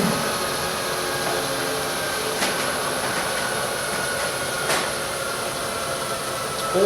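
A steady mechanical whir of a CNC mill drilling a hole, a constant tonal hum over broadband grinding noise with a few brief clicks, no voices.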